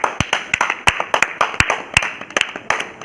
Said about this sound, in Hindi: इनके लिए ताली।